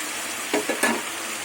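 Shrimp go into a pan of garlic and potatoes, adding a few short clatters and scrapes to a steady close sizzle.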